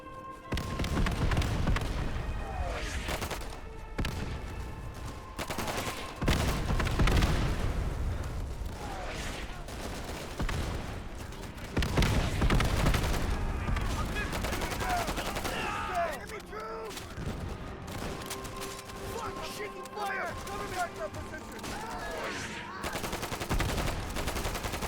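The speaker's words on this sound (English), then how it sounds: "I think these are Japanese mortars" Japanese mortar blasts and rattling gunfire on a beach in a WWII Pacific shooter, repeated booms and bursts of shots near and far, with players talking between them.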